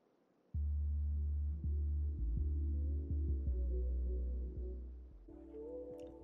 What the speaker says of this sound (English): So now we have the Andes shaver.